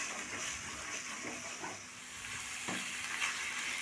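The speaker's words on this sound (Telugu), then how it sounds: "టమాటాలు ఒక రెండు మూడు నిమిషాలు మగ్గించుకోవాలి కొంచెం మగ్గిన తర్వాత చికెన్ని వేసుకోవాలి చికెన్ వేసుకుని బాగా కలుపుకోవాలి" Chicken pieces frying with softened tomatoes in a pan for chicken curry, a steady close sizzle with soft scraping stir strokes at intervals, no voices.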